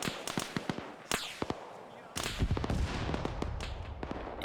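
Incoming artillery in a military game, heard as a series of sharp, scattered blasts and cracks followed by a heavier, rumbling impact about midway through.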